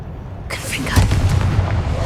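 A Confringo spell bursts in Hogwarts Legacy, a sharp blast at half a second followed by a heavy, rumbling roll of booms and fiery crackle, with a voice partly mixed in.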